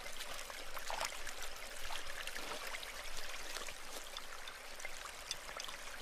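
A creek at night flows steadily, a continuous close rush and trickle of water with faint splashes, no voices.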